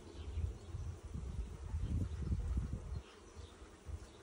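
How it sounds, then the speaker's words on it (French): Bees buzz near a waterside picnic spot outdoors, a soft, low droning hum that swells and fades irregularly over a few seconds, faint and close. "un bruit vraiment de bourdonnement. Les abeilles sont au taquet, mais moins en bas."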